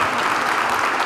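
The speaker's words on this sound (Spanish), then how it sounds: "merece un fuerte aplauso" A live audience bursts into a dense, steady round of applause honoring José Vicente Rangel during a lecture on the history of human rights, the clapping loud, close and continuous throughout the short burst.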